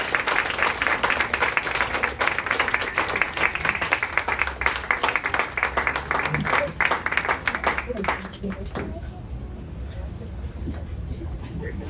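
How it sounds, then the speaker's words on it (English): An audience at a book launch in Kepler's bookstore claps loudly and steadily for about eight seconds. The applause then drops away to quiet room tone, with faint voices underneath. "can I have a huge round of applause for Lindsay,"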